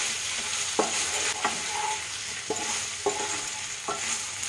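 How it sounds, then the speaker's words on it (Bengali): Raw banana being stirred with spices in a frying pan: a steady sizzle underneath with several sharp scraping strokes of the spatula spaced roughly every half second to a second. "দিয়ে এবারে পুরো আমি কাঁচকলাতে মশলাগুলো মাখিয়ে নেব।"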